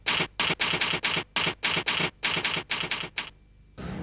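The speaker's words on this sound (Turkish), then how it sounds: "duyuyorum daktilo devamlı çalışıyor" A manual typewriter in a writer's study is struck in a fast, even run of loud, close keystrokes, about a dozen sharp clacks in rhythm before a short pause, then the clatter starts again.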